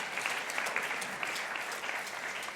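Steady applause from a crowd at a Paul Harris Fellows recognition event, continuous clapping at moderate volume throughout the short stretch.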